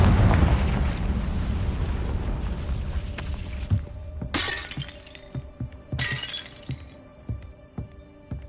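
A Confringo blasting spell explodes in Hogwarts Legacy with a loud, crackling, shattering blast that rumbles for several seconds, followed by two sharp, bright bursts and fading debris.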